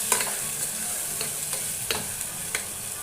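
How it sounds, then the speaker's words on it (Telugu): Ginger garlic paste and turmeric fry in a pan for gongura mutton, a steady sizzle running throughout with a few sharp spoon scrapes against the metal standing out above it, close and moderately loud, no voices. "అల్లం వెల్లుల్లి పేస్ట్ పచ్చి వాసన పోయేంత వరకు ఇలాగే ఫ్రై చేస్తుండాలి"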